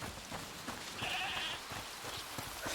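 A goat bleats once in A Plague Tale: Requiem, a short wavering call at moderate distance over soft ambient game noise.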